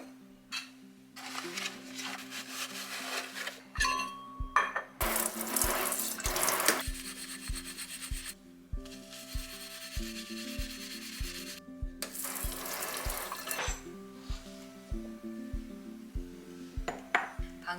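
Scrubbing and rinsing an enamel pot at a kitchen sink, with steady rubbing strokes, water running in bursts and light knocks of the pot against the basin, close and continuous with no talk.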